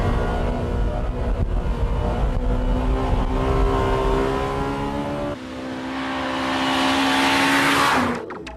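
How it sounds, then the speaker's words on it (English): A Honda Civic Type R is driven hard around the winding test course at Takasu Testing Center, its engine note climbing through the revs and shifting gears, then surging loud to a sharp peak and cutting off at the end. "the Civic Type R has been tested intensively at this Takasu Testing Center's winding course"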